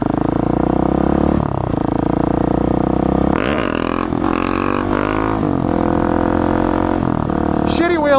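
Motorcycle doing a wheelie, its engine droning loud and steady, then revving up in a sharp rising surge before settling back, with brief clattering and wind noise over the close engine roar.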